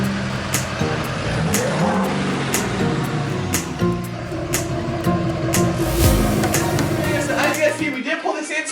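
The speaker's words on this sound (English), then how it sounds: "Let's jump in the old Duramax, pull that onto the driveway" Duramax diesel pickup pulling onto a driveway: a continuous engine rumble that rises and falls as the truck moves, with clicks and rattles over it and some faint talk.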